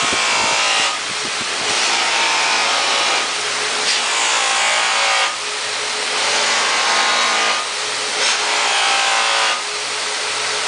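A buffing wheel polishes stainless steel car trim, a loud continuous whirring hiss that swells and eases in repeated passes every couple of seconds as the part is pressed against the spinning wheel, with no speech.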